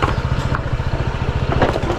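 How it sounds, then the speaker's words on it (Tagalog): A motorcycle engine idles close by with a fast, even, throbbing putter, while people talk over it. "Nagmotor lang pala kayo, yan yung gamit niya?"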